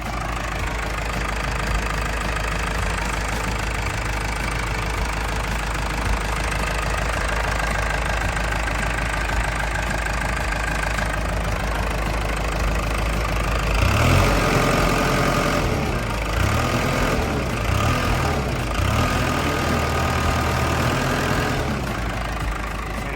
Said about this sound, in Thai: เครื่องยนต์ของเขาเนี่ยก็ทำงานได้แน่นดีปกติเลยนะครับ